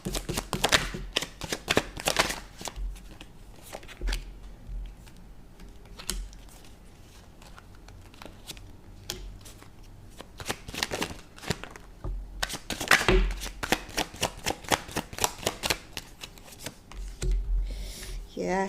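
Tarot cards are shuffled up close in repeated bursts of rapid riffling flutter with quieter stretches between, and a voice speaks through parts of it.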